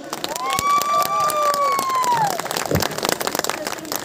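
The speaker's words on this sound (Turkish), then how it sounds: "Alkış!" Crowd applause at an outdoor snow festival in a nature park, with scattered clapping under a loud sustained voice that dominates, the applause thinning toward the end.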